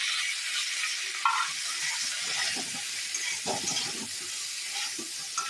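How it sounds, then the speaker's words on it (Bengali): Boiled potatoes fry in oil with whole cumin, a dried chili and a bay leaf, giving a steady close sizzle and hiss with small spatters and no talking. "সেদ্ধ করে রাখা যে আলুগুলো ছিল সেগুলো আমি এখানে ভেজে নেব"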